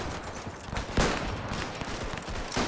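Dense, continuous gunfire from a World War One battlefield in the game Between Empires, sounding at moderate distance with crackling volleys and scattered shots layered into a steady din over several seconds.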